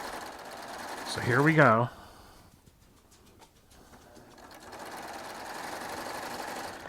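A Baby Lock Triumph serger stitching fabric with a ruffling foot attached, a faint, steady mechanical whir that starts a few seconds in, after a person speaks briefly.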